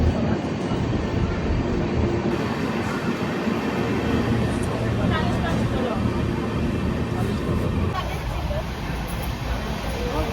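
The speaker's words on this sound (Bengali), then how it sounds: "ট্রেন ছেড়ে দিয়েছে" A passenger train bound for Goa pulls away and runs on, a continuous rumble of rolling wheels and carriage rattle with rhythmic clacks, heard from inside alongside nearby talk and passenger chatter.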